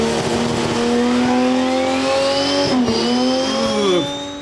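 A turbocharged Ford AU ute with a 4-litre Intec engine revs hard, its loud tone climbing and dipping in pitch through several rises, close by and alone, easing off at the end.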